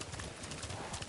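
Horses' hooves clip-clop in a quick, steady rhythm as riders approach a camp across rough terrain, close and clear with no talking.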